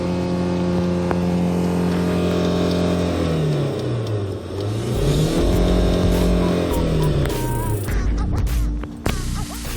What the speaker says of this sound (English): Alright, engine sounds good.